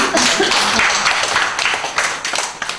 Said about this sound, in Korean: 내가 박수 한번 쳐야 돼